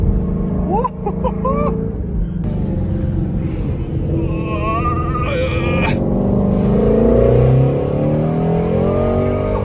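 A motorcycle engine revs and accelerates on a mountain road, its pitch climbing and dropping through several surges over a steady wind rumble, loud and close throughout.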